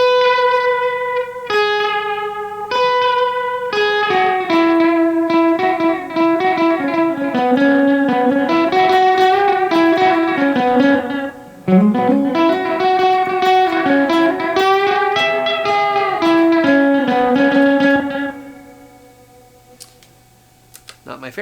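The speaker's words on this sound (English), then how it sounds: "LovelyVibraDelay. This is a tape style. So it's like having a vibrato pedal on." Guitar played through a Boss DD-500 delay pedal on its LovelyVibraDelay preset, a tape-style delay with vibrato, giving a melodic line with a wavering pitch and trailing repeats, loud and close, that fades into a decaying tail near the end.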